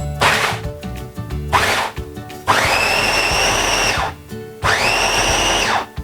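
A blender grinds ingredients for a Korat-style Thai meatball dipping sauce, loud and close, running in three separate bursts with a whining motor pitch that rises and falls, broken by brief pauses.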